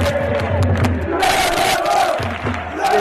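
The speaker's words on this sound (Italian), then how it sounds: "Adesso ci stanno anche i tifosi a sostegno della squadra locale del Viviani in Potenza Calcio." Football supporters of Potenza Calcio chanting and roaring together in the stands at Stadio Alfredo Viviani, Potenza, during a Serie C match, a dense, loud, continuous crowd roar with rhythmic chanting.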